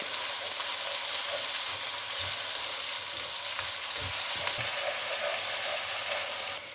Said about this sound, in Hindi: तो प्याज को फ्राई कर लें